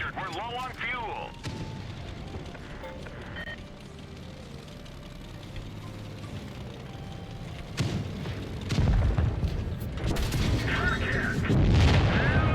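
Tank cannons firing in World of Tanks Blitz: heavy, rumbling booms and explosions from the game, the loudest near the end, with a game voice and a person talking over them.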